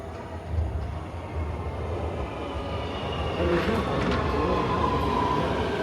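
A metro train arrives at a Dubai station, a steady rumbling roar that swells gradually as it approaches, with people chatting faintly in the background.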